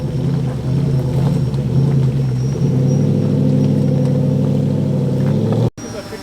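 A race car on a track attempts to spin a wheel, its engine droning loud and steady, then rising in pitch as it accelerates before cutting off abruptly near the end.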